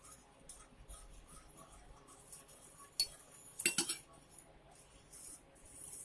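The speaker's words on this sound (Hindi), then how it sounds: "इसको चलाते जाएंगे।" A spoon clinks and scrapes against a pot while chocolate sauce with half a spoon of ghee is stirred, faint and intermittent with a few sharper metallic taps near the middle.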